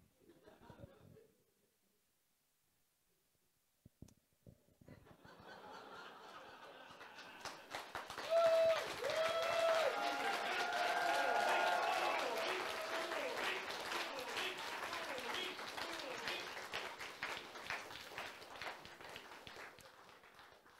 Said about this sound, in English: I thank you for the applause